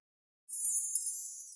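A wind-like downsweep effect from a melodic dubstep remix production, a bright airy hiss that enters after a short silence and holds steadily for about a second before cutting off.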